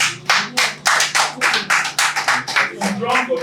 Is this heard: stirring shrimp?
no